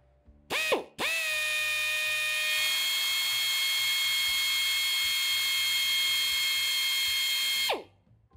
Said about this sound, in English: we're drilling for a 632, so I got my number 36 drill.